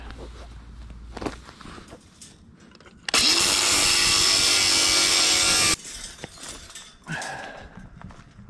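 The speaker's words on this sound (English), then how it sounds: "What I'm doing now is just cutting the mesh so I can have the mesh horizontally in there." Wire mesh for concrete block walls is cut with a power tool in one loud, sustained burst of about two and a half seconds, between quieter handling clanks and scrapes.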